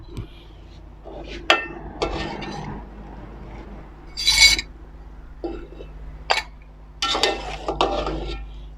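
Boiled pork ribs scooped out of a pot in a home kitchen. Several sharp metallic clanks and scrapes of a utensil against the pot come in irregular bursts over a low, steady background hum.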